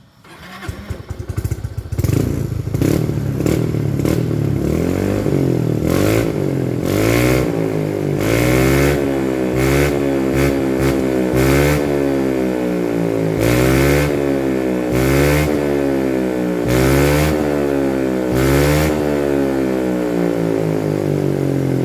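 A Yamaha Mio M3 scooter engine after ECU tuning revs repeatedly in close, loud bursts, each blip rising and falling in pitch over a steady idle, with no talk.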